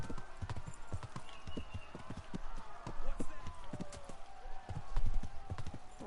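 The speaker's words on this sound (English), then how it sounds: "This horse is slower than snot." Horse hooves clop and gallop in the medieval video game Kingdom Come: Deliverance, a fast, steady run of close hoofbeats over a soft ambient bed, with talk in the background.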